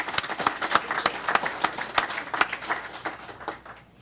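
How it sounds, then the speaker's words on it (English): Scattered applause from attendees at a county board of commissioners meeting, a modest number of distinct claps at moderate distance that thin out and fade within a few seconds. "it's good to give a round of applause for those numbers"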